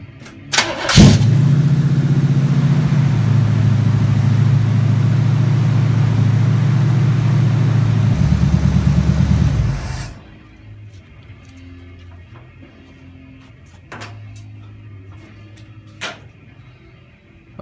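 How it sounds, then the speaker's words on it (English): A GM car with a three-wire internally regulated alternator cranks and starts with a loud, sustained roar. It drops abruptly after about ten seconds to a quieter idle, with a few faint clicks later. "Now we're gonna start the car."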